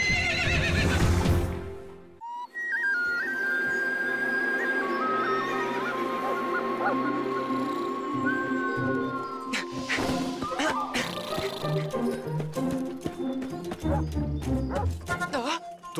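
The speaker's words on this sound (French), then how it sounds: "Je vais voir si ces chevaux veulent bien rejoindre mon troupeau." Cartoon horses whinny loudly amid a busy animated soundtrack, with music and possible faint hoof clip-clops underneath; voices and other animal-like cries also come and go.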